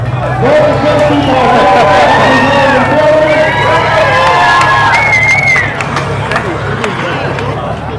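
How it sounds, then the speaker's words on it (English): Crowd at a 50th anniversary event cheers and applauds loudly, with whoops and excited babble over the clapping, easing slightly toward the end. "Give a big round of applause"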